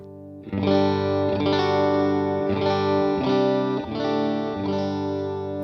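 An electric guitar, a Stratocaster, plays overdriven, gritty chords and notes through a simulated amp with moderate gain, strummed in a loose rhythm with no talking.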